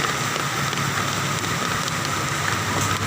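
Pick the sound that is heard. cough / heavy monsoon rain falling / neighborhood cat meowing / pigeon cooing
heavy monsoon rain falling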